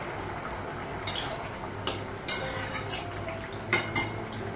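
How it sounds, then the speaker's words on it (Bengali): A metal lid is lifted off a cooking pot on a home stove, making a few light clinks and scrapes close by against a quiet background. "ঢাকনাটা উঠাবো"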